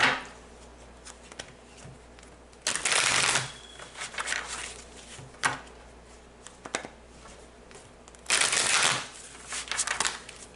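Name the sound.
shuffling tarot cards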